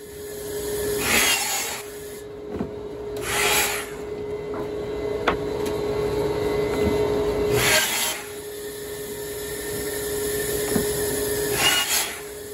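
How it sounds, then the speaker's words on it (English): Miter saw cutting wooden boards for a speaker cabinet build, with several loud broadband saw bursts spaced a few seconds apart over a steady background hum in a workshop. "I went to the miter saw to cut the final lengths off the"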